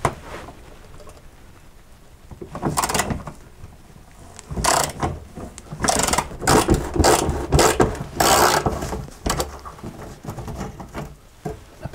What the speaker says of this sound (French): Donc on peut prendre le cliquet et c'est du 10.